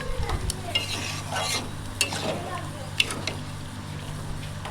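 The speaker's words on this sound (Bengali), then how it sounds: "ডালটা দিয়ে আমি মশলার সাথে ডালটাকে কিছুক্ষণ কষাবো।" Boiled lentils are fried with spices in a pan, with a low sizzle and repeated spatula scrapes and taps against the metal, close and moderately quiet.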